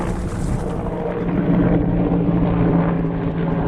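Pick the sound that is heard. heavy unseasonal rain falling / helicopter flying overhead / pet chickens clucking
helicopter flying overhead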